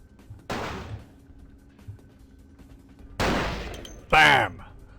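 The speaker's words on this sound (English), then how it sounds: "Let's pull out a hunting rifle." Hunting rifle fire in the vampire game Vampire: The Masquerade - Bloodlines, with two sharp, loud shots late in the clip, the second carrying a metallic ringing tail, following an earlier softer burst.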